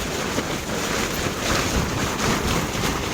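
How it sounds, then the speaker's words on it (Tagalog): Strong wind roars steadily around a tent at a campsite on a rainy night, a dense, loud, continuous buffeting close to the microphone with no talking. "Ang lakas ng hangin."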